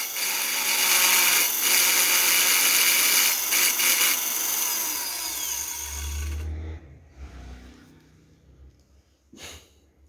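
A cloth cutter machine fitted with a sharpening file runs loud and close with a harsh, steady mechanical whir, then shuts off and winds down, leaving a few faint clicks and a short scrape.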